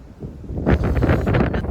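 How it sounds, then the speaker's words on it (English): Gusty wind in Iceland buffeting the microphone outdoors, a rough low rumble that swells and stays loud after a quieter start. "Oh, it's windy."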